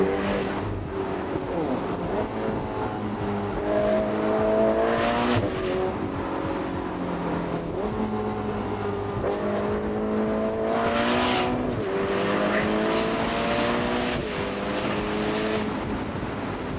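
Ferrari Portofino 600-horsepower convertible engine blipping and revving through downshifts on an open road, rising and falling engine tones close and loud, with wind and road noise throughout.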